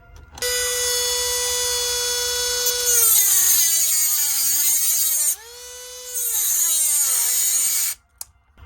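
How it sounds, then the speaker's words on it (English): A small rotary cutting tool grinds a slot into a damaged screw head during a Jade 20 Viking sewing machine repair, a loud steady high whine that drops in pitch as it bites, briefly eases, then stops. "So, what I did, I cut it and make a slot on it."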